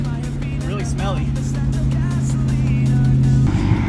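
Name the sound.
Toyota Celica RA64 with swapped 1UZ V8 engine running lumpy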